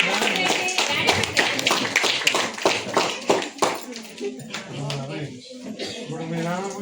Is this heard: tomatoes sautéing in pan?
no